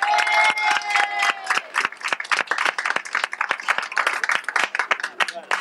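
At a 1989 Miss Arc en Ciel pageant in Alençon, a crowd claps in distinct, fairly close hand claps that thin out into scattered, uneven claps toward the end.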